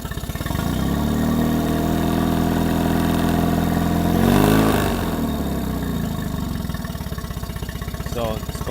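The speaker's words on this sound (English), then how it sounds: "Just rev it up and see." A 2015 Mercury 20hp four-stroke outboard motor runs steadily close by, then revs up briefly around the middle before settling back to a steady idle, loud and continuous throughout.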